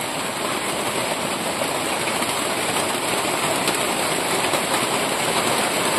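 Heavy rain pouring onto a house roof at night, a dense, steady roar of downpour that stays constant and loud from start to finish with no voices.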